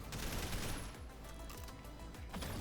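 Mech gunfire in the video game Daemon X Machina while boosting and holding momentum, a loud dense stream of rapid shots with a few brief dips, heard alone without talk.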